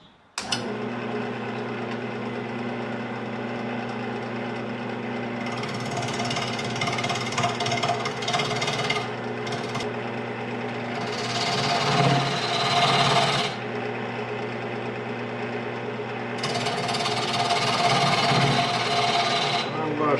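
A wood lathe runs steadily through multi-axis eccentric spindle turning, a continuous motor hum with tonal whine and bursts of rougher cutting or rubbing noise as the tool engages the offset spinning workpiece.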